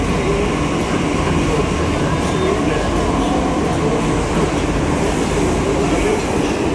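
A Delhi metro train rumbles loudly and continuously at Sarojini Nagar station, with dense, steady rail noise and wheel clatter close by.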